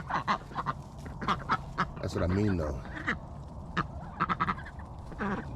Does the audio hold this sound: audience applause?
no